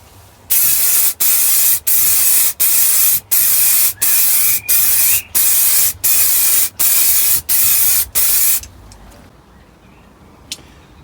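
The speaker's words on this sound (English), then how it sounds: "that's the first coat of the satin black over the top of the rust-proof primer" A spray can lays satin black paint over rust-proof primer on a Rover P6 boot in about a dozen short, evenly spaced hissing bursts, loud and close, before falling quiet.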